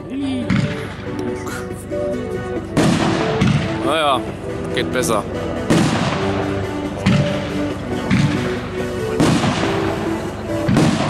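Category F4 Platinum series firework battery firing 16 shots of 75 mm shells: a rapid sequence of loud booming launches and crackling bursts, close and continuous, with someone speaking briefly over it.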